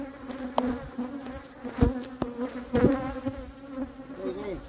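A steady, droning buzz of many bees hums continuously at close range, with a few louder individual insects swelling past now and then.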